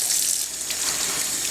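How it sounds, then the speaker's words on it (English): Tap water from a faucet fitted with a flow restrictor pours steadily into a 40-year-old kitchen sink, a close, continuous hissing splash with no talking. "there's not a lot of water shooting out of here like I wish"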